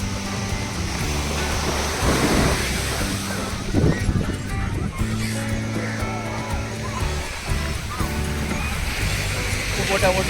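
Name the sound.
big ocean waves at Poovar beach, Kerala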